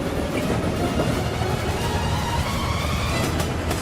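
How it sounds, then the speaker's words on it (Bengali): A train arrives on a track laid toward a giant pit, rolling steadily with clickety-clack wheel noise and a continuous rumble heard from fairly close. "ট্রেনটাকে পাঠাও। ট্রেন আসছে।"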